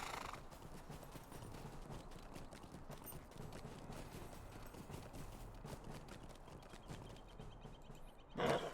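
Horse hooves clip-clop in a steady rhythm while riding in the LOTRO video game, moderately quiet under game ambience, with a brief louder burst at the very end.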